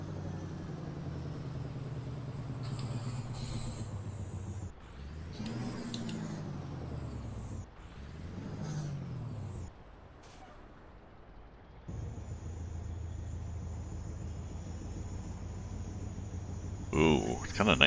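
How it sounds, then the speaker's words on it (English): A truck's engine brake roaring at about 750 RPM in American Truck Simulator, a low, steady drone that swells and dips in pitch through gear changes, with a quieter gap midway. "it's kind of nice we're jaking down like that at, well, 750 RPM"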